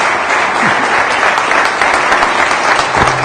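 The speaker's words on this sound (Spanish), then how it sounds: "Les podemos igual dar un aplausito" An audience at an agricultural talk applauds after the presentation, steady dense clapping throughout, fairly loud and close, with no speech over it.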